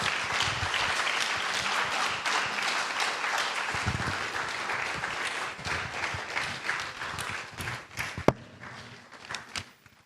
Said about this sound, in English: With a round of applause, let's welcome Erastus Asare Donkor.